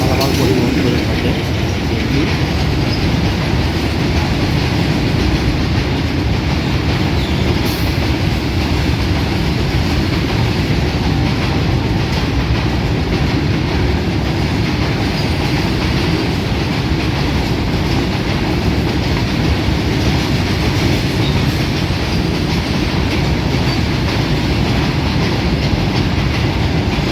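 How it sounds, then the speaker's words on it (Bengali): A freight train from Dhaka bound for Ishwardi rolls into Chatmohar railway station on line 2, pulled by a 6500-series locomotive, with a loud, steady rumble and clickety-clack of wagons passing close by throughout. "ঢাকা থেকে ছেড়ে আসা ঈশ্বরদীগামী একটি মালবাহী ট্রেন এই মুহূর্তে চাটমোহর রেলওয়ে স্টেশনে 2 নম্বর লাইন দিয়ে প্রবেশ করছে।"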